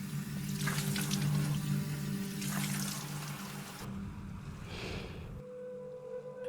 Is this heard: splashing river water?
yes